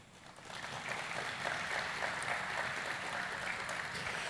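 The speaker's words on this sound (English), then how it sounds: "Isn't that worth an applause?" Audience applause at a university student orientation, a broad steady roar of many hands clapping that swells in after a quiet start and holds evenly, somewhat distant in a large hall.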